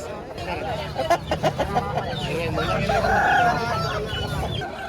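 Fighting roosters for sale at the Gokavaram market in East Godavari, crowing and clucking amid a busy crowd, with bursts of clucks and a stretched crow over steady market chatter, people talking nearby.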